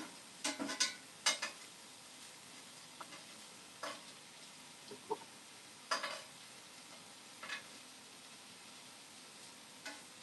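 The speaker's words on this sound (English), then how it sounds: "move all these sausages and stuff to one side" Sausages scraped and shoved to one side of a pan on a wood stove, quiet sizzling underneath a few sharp metallic clinks and scrapes of a utensil against the pan, close and soft, with no talking.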